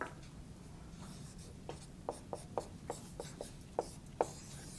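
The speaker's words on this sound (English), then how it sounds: "And I can write down the answer." Chalk or marker writing out an answer on a board during a university calculus lecture on trigonometric substitution, heard as a series of short, sharp taps and scratchy strokes over a quiet room hum, with no talking.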